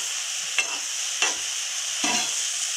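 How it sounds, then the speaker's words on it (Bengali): Turmeric is stirred into spring onion greens frying in a pan. Three distinct scraping strokes of a spatula cut through a steady, close hiss of sizzling. "হলুদটাকে আমি নেড়ে করে মিশিয়ে দেবো"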